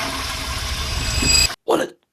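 A toilet flushes in Switzerland: a close, loud rush of water lasts about a second and a half, then cuts off abruptly, followed by a brief burst of sound.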